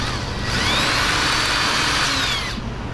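A power drill with a sharp bit bores through metal mounting tabs salvaged from an old sunroof for a 2008 Jaguar XJ, a loud, close, steady whine that rises, holds for about two seconds, then winds down.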